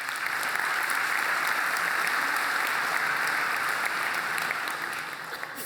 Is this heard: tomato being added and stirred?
no